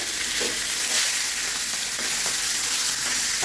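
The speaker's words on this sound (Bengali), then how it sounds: "লাল লাল করে মাছ ভাজা হয়ে গেছে।" Rupchanda pomfret fish frying in hot oil, browning red, with a dense continuous sizzle and crackle, close and loud, unbroken and without talk.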